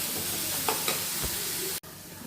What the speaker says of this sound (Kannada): ಇನ್ನೂ ಚೆನ್ನಾಗಿ ಫ್ರೈ ಮಾಡಬೇಕು.